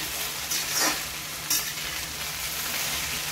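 Okra (bhindi) fries in a pan over low gas, a constant close sizzle with a couple of brief stirring scrapes as it is turned.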